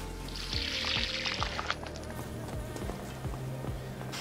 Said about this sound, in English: dump your Camelback, get all that nasty stuff out of there